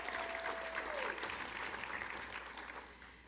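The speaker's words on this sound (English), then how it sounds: "Give her a round of applause." Convention audience applause for a guest at a novel preview panel in San Diego, moderately distant and steady, fading slightly toward the end, with a faint tone under it.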